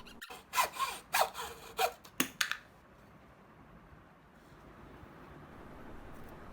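Hand chopping at the corners of a wooden bowl blank wedged in a mini stump, heard as a quick series of about six sharp, close woody strikes followed by quiet room tone.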